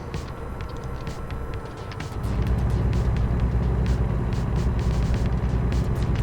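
A truck in the American Truck Simulator video game drives along a road, its engine a steady rumbling drone that grows louder and heavier as it accelerates, with continuous road and wind noise.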